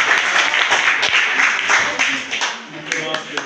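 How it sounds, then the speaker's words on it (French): A burst of applause from a crowd at a school quiz competition, loud and close, with voices mixed in. "Applaudissez Cap."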